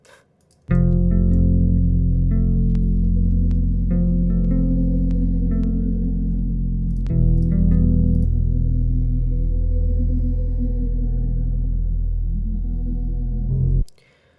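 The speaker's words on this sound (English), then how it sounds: "We did these two guitars here, and just listen to how it is" Two layered guitar parts, pitched down and heavily processed with distortion, chorus and echo, play a loud sustained chordal passage with a few plucked attacks, ending abruptly with no speech.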